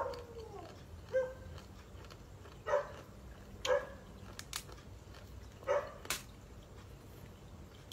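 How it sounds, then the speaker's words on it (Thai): A dog barks outdoors in a rural yard, several short separate barks spaced across the stretch, moderately near, over a low steady background with no talk. "มันเห่าแม่มัน"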